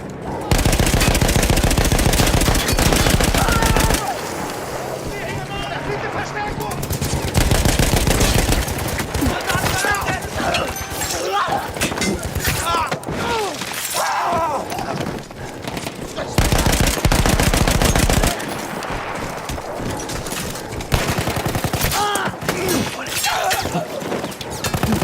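Sustained bursts of mounted machine gun fire in the Battlefield 1 video game, rapid and loud in long runs that break off and start again, with brief gaps between strings of shots and scattered combat noise.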